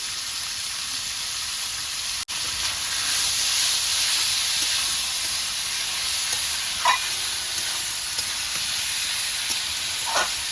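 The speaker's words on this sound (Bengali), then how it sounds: "আমি আদা রসুন আর পেঁয়াজ দিয়ে ভালো করে ভেজে নিচ্ছি" Ginger, garlic and onion sizzle in a pan with a steady, close hiss, broken by a few faint scrapes and light clinks from stirring. No voices are present.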